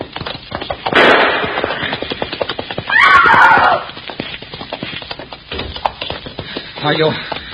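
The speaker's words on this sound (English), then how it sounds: "Diane, I cannot catch Zuleika on this horse." A horse whinnies loudly amid sharp, gunshot-like cracks and hoofbeat effects in an old-time radio drama chase scene, with voices around the sounds.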